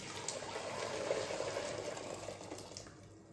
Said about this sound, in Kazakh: Енді кастрюлемізге сақырлап тұрған ыстық суымызды құямыз.